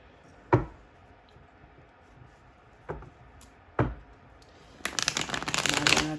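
A deck of cards is handled for a card reading: a few sharp isolated snaps and taps, then a dense, rapid riffling shuffle near the end, close and fairly loud with no talking.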